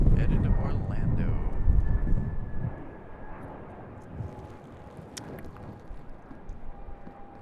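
A Frontier airliner passes over at Raleigh-Durham airport, a loud low jet roar near at first that gradually recedes and thins to a distant whine, with wind buffeting the microphone.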